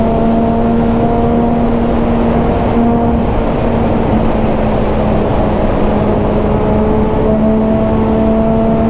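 A Yamaha MT-09 motorcycle accelerates hard on a road, its engine roaring loud and sustained at close range with a steady buzzing tone throughout, no voices.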